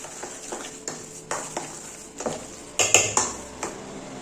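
A spoon mixing salted curd rice in a bowl gives a series of soft, scattered clinks and scrapes against the dish, close and fairly quiet, with a few sharper taps near the end.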